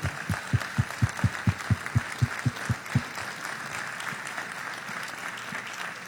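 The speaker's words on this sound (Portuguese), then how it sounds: "Aplaudamos ao Senhor." Church congregation at a missions symposium clapping in unison, about a dozen slow, evenly spaced claps that stop after three seconds, leaving a quiet murmuring room.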